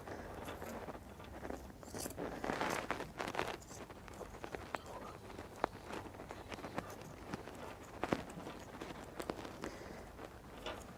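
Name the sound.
scissors cutting thick fabric for an apron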